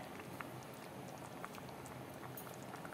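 Pulao water with salt added comes to a rolling boil in a pressure cooker, giving a steady close bubbling and crackling hiss with small irregular pops throughout.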